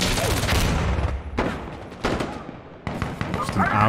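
Sustained automatic rifle fire from an AS Val in the tactical shooter Insurgency Sandstorm, loud and close. Rapid bursts come in several separated strings, with other gunfire and battle noise mixed in and a voice talking over parts of it.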